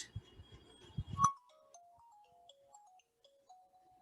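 A faint melodic ringtone plays a simple stepwise tune after some brief knocking and handling noises, quiet and alone.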